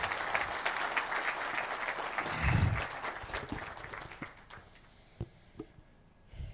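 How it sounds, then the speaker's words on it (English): Fairly soft applause from an audience at an Axian Telecom corporate event, a thick patter at first that thins into a few scattered claps before dying away. "another clap for everyone"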